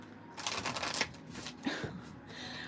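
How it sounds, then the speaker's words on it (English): Tarot cards shuffled by hand, a run of soft riffling and papery slaps in quick bursts, close and fairly quiet, with no voices. "I'm gonna do a couple more shuffles here."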